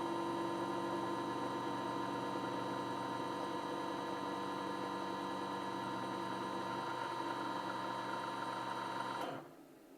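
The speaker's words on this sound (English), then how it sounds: "So now the bobbin should spin counterclockwise for 500 winds," A CNC guitar pickup winder spins a bobbin counterclockwise, giving a steady motor whine with strong mains-like hum and tonal harmonics that runs continuously, then cuts off abruptly near the end.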